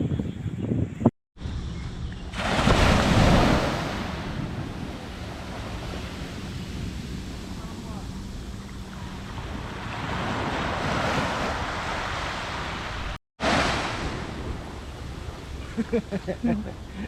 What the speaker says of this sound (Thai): โอ้เสียงคลื่นพัดกระแทกมา